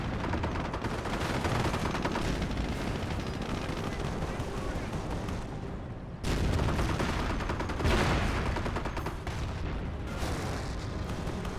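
Relentless tank and anti-tank gunfire in Company of Heroes, with a Pershing and Sherman trading shots against an 88: continuous rattling bursts, heavy booms and explosions forming a loud, dense battle din with commentary beneath.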